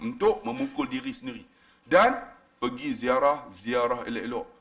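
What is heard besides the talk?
No everyday noise stands out behind the speech.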